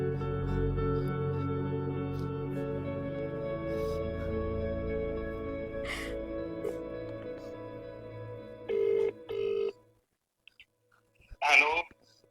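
A phone ring tone drones with a steady tonal pattern for several seconds, followed by two short beeps, brief silence, then a voice answering.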